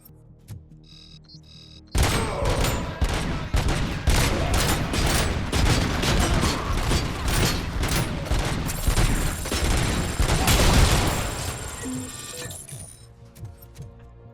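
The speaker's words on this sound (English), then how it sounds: "I shot that guy in the grenade" Gunfire in the RoboCop: Rogue City video game opens in sudden rapid bursts after a quiet start, loud and continuous for several seconds, with clattering impacts, then tapering off.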